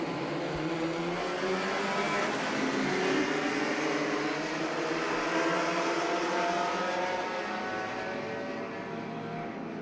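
A field of Formula First single-seater race cars pulls away from a green-light start at Manfeild, a steady, fairly distant engine drone carrying across the circuit throughout.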